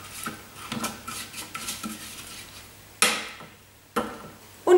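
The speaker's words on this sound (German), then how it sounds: "anschließend schiebe ich erstmal das Hochgespritzte vom Rand wieder runter." A spatula scrapes and taps around the rim of a Thermomix mixing bowl, pushing splattered cake batter back down. The sound is a series of soft rubbing strokes followed by a few sharp knocks against the bowl, close and alone.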